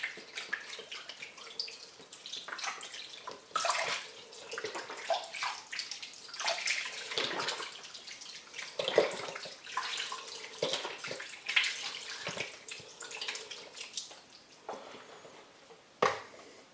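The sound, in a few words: pouring beef stock into slow cooker with venison roast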